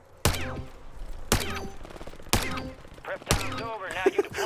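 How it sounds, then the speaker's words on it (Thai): Dual machine guns firing in the shooter game Warzone, four loud separate booming shots about a second apart, each ringing out with a metallic tail, followed by a busier burst of shorter cracks and clatter at the end. "เสียงปืนตลกมาก"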